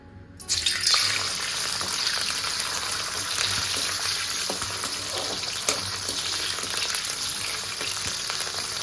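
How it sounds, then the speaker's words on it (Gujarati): Gunda berries fry in a few spoonfuls of oil in a kadai, a sizzle that starts abruptly after half a second and then holds steady and loud, crackling throughout with no voices. "ગુંદાને આપણે 2 થી 3 મિનિટ માટે ફ્રાય કરી લઈશું"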